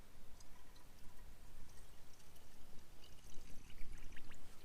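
Water pours into the cooling system of a BMW E39 with a failed thermostat, a faint, continuous gurgling stream with slight trickles, heard alone with no talking.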